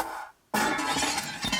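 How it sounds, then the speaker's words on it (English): Glass smashing effect played through a factory Audio Plus sound system in a Toyota 86/Subaru BRZ/Scion FR-S, a loud shattering crash after a brief silence, with bright debris tinkling for over a second. "I'm just going to start it again with that smashing glass sound."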